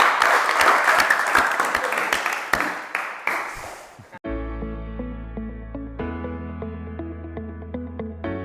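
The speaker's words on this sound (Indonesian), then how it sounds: "tepuk tangan untuk kelompok 1" Classroom applause for a student group, a burst of dense clapping with several louder individual claps that tapers off within about four seconds, then gives way to sustained music with tones.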